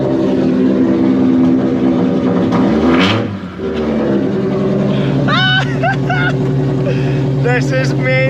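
A track-ready Mini Cooper S engine drones loudly at close range, one throttle blip swelling and dropping away midway before the steady rumble returns, while someone talks over the last few seconds.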